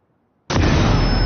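Sudden loud explosion erupts after near silence, its roar sustained and dense, filling the rest of the moment without fading.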